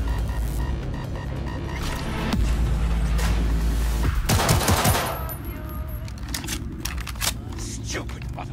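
Incoming gunfire in Cyberpunk 2077 rattles in a dense, heavy fusillade over a low throbbing hum, peaking midway then tapering to scattered shots while voices talk.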